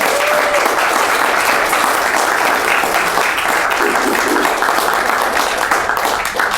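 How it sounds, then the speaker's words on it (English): An audience breaks into steady, loud applause during a career talk, dense clapping holding at an even level throughout with no speech over it. "Let's give her a round of applause, everybody."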